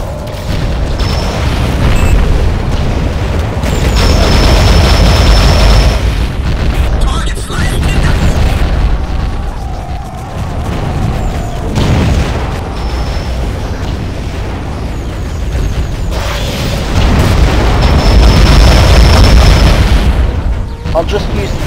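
Torpedo explosions in the underwater combat game Aquanox, loud sustained booming rumbles rolling through one after another over a dense low roar, with speech heard briefly.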